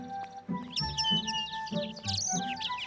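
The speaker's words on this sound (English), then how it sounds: "Can we look at the birds?" Several small birds chirp and tweet in quick, overlapping bursts at close range, bright calls repeating over a steady background with no talking.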